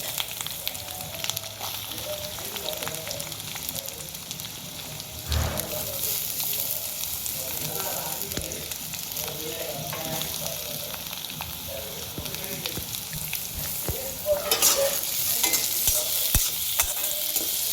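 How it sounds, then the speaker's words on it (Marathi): Onion fries in a pan with curry leaves, giving a steady close sizzle throughout, broken by the scrape and clatter of a spoon stirring, which grows briefly louder near the end. "आता याच्यामध्ये कांदा घालून घेते."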